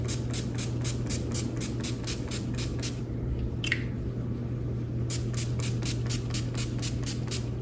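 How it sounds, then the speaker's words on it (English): Makeup setting spray pumped in quick rhythmic bursts, about a dozen fast spritzes, a pause with a brief hiss, then another run of rapid sprays, close up over a steady low hum. "Let's do some setting spray one last time."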